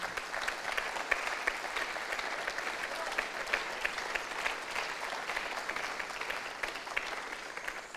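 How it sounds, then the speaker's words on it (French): Steady, dense audience applause fills a closing speech event hall, clapping continuously at an even level throughout without a break. "Applaudissez-la."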